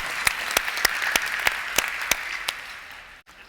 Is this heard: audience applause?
yes